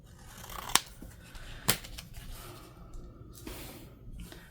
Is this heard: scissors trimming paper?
yes